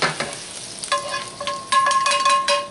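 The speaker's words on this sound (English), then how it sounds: "And then I'm going to put the onions in on top." Onions sizzling in a hot pan while making beef tips and noodles, a steady close frying hiss with stirring clatter and a brief sustained tone, no talking.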